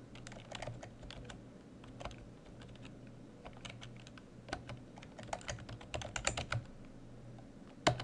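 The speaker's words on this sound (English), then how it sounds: "we'll go ahead and start typing" Quiet, steady typing on a computer keyboard, irregular key taps that grow a little louder and quicker toward the end, under a faint low hum.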